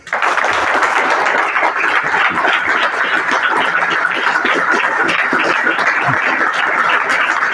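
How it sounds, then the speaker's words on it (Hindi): A church congregation claps loudly and continuously during a Hindi-language service, a steady wash of many hands with no pause. "जोरदार तालियां बजाएं।"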